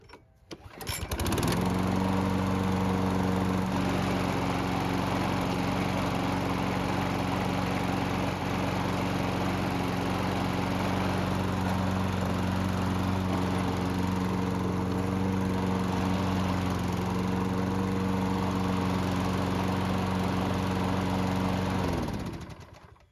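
A lawn mower engine with a weak self-propel drive starts and runs steadily at a loud, even drone for about twenty seconds, then cuts off.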